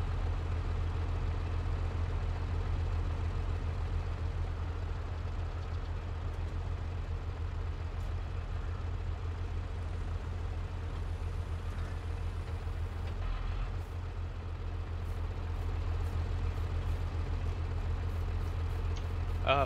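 A tractor engine in the video game Farming Simulator 22 runs in a steady, loud, continuous low drone with little change in pitch for the whole stretch.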